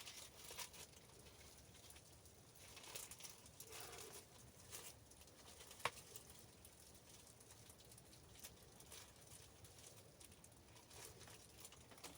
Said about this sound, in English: Not sure if you can hear the rain on the roof.